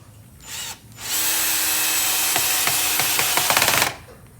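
A power driver whirs steadily as it sinks a screw into wood for a dragon fruit trellis, preceded by a short trigger burst and ending with a ratcheting clatter before stopping.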